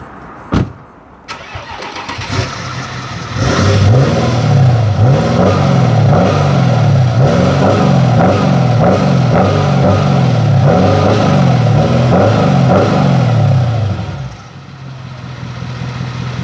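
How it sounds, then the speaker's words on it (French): An Audi A8 V8 TDI diesel cranks and fires up, then a loud, close run of rhythmic revs rises and falls before settling into a steady idle. "Est-ce que je te fais un petit démarrage et je te fais écouter ce magnifique son?"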